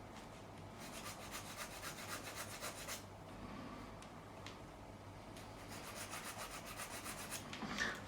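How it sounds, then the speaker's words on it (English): Sandpaper rubs back and forth along the curve of a guitar fretboard on a MIJ Fender Strat neck, a steady close rasping with rhythmic strokes and a few brief pauses, no talking. "I get the curve using the sandpaper"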